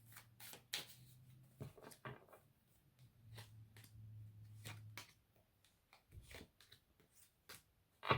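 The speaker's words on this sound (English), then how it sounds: "shuffle the Twin Flame Guidance Oracle" Deck of Twin Flame Guidance Oracle cards being shuffled close by, quiet irregular riffles and slaps of card stock in short bursts with brief pauses, alone without talk.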